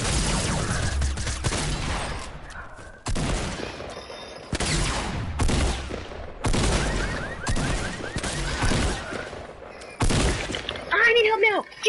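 Rapid gunfire in an online duos shooter game, repeated bursts and single loud shots cutting in across the clip, with players talking over the action.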